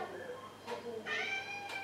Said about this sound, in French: j'ai mon chat qui pleure derrière